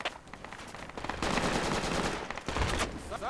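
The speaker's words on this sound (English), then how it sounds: "Somebody just northwest of the bridge too, shooting at me." Video game gunfire from a battle near a bridge, with loud bursts of rapid machine-gun fire crackling over one another and sounding fairly close. The shooting swells in the middle of the clip and again near its end.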